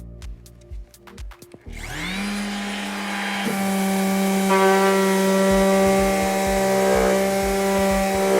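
A Festool DTS 400 orbital sander spins up and runs steadily with a loud, close electric whine and rising harmonic tones as it sands a cabinet surface into the corner, following a few sharp knocks at the start.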